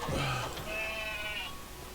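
A sheep in the video game Craftopia gives one drawn-out bleat after a short burst of other sound, fairly close and clear against low background noise.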